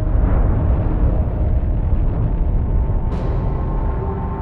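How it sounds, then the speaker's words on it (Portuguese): A deep, dramatized gamma-ray burst explosion rumbles on as a heavy, sustained roar, loud and dense from start to finish, with a brief bright crackle near the end. "É uma explosão de raios gama, a maior a sacudir o universo desde o Big Bang."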